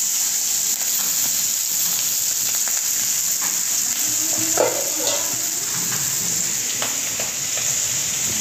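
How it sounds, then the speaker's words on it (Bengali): Potatoes and bitter gourd fry in a pan at home on a rainy day, a steady sizzle with occasional stirring scrapes and clinks, fairly quiet and continuous throughout, with no talking. "এখন চলছে আলু উচ্ছা ভাজা"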